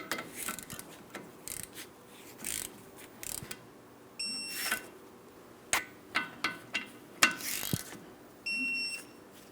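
A torque wrench in use on the rear brake caliper of a Ford Transit 250: a run of sharp metallic clicks and ratcheting taps, some in quick bursts, with short high tonal chimes between them.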